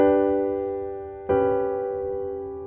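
Two sustained piano-like chords ring one after the other, each voiced with a major seventh between the outer notes, the first fading before a sharp second attack that decays slowly, clear and close.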